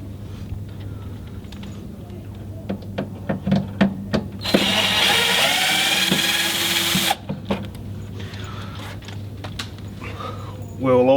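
A power driver backs out the four condenser screws on an ice maker during a repair, giving clicks and taps before one loud, steady whirring burst of a few seconds; a voice talks around it.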